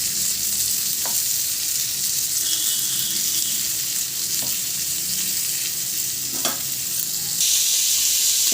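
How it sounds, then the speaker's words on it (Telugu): Fish pieces frying in a pan on high heat for a spicy fish fry, giving a loud, continuous close sizzle with a few sharp clicks from the pan, and no voices. "ఇప్పుడు హైలో పెట్టుకొని ఫ్రై చేసుకుందాం."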